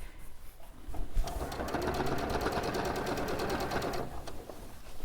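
A sewing machine runs steadily for about three seconds, stitching a floral turtle appliqué onto a cushion, with a close, even mechanical whir and a faint knock before it starts and after it stops.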